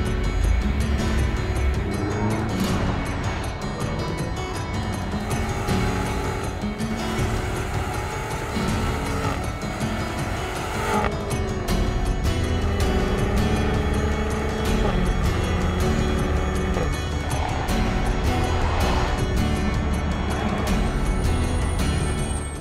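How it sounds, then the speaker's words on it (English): A 2016 BMW X6 M SUV is driven hard around a race track. A loud, steady engine and road roar rises and falls in pitch through the gear changes, with no pauses. "Schon Wahnsinn, wenn du so ein Auto hast, was so viel wiegt, so schnell um eine Rennstrecke fahren kannst."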